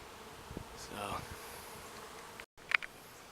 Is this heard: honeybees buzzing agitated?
yes